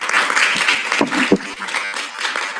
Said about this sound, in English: I think that we should applaud the presenter